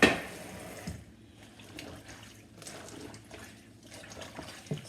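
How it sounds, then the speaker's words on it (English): Wet greens whir in a pull-handle salad spinner, a soft rushing whirl that swells after each sharp clack of the handle, with a louder knock at the start, close and fairly quiet. "You take the handle, you pull it a couple times, and as you can see, the bottom goes round and round"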